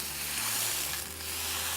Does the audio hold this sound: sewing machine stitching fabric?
no